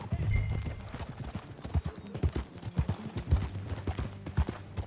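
Horse hooves clip-clopping in a steady trotting rhythm while riding in the video game Red Dead Redemption 2, close and moderately loud with no talk.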